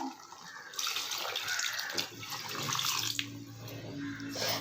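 Water pours steadily into a pressure cooker for mango sambar, a close, continuous splashing gush that swells and eases slightly over a few seconds.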